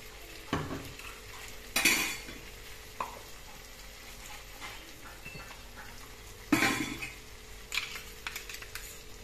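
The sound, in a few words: stirring white mustard paste and water in a pan with okra and potatoes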